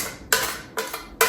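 Spoon scraping a bowl of blueberry mixture with sugar and lemon zest for a no-bake cheesecake, three short, close scooping scrapes spaced apart, alone and fairly quiet.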